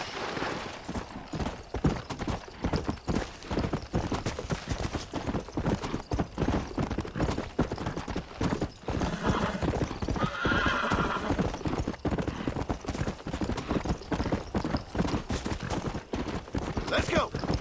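Horse hooves clip-clop steadily in a fast gallop through Red Dead Redemption: Undead Nightmare, with a whinny midway, loud and continuous against game ambience.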